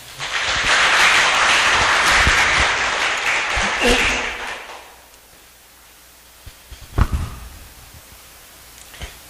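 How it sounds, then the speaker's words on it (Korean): A church congregation applauds its young adults during a Korean Sunday service, a loud, full burst of clapping lasting about five seconds, then fading into quiet room tone with a few scattered knocks. "하나님께서 택하신 우리 청년들을 격려하는 마음을 담아서 우리 함께 박수했으면 좋겠습니다."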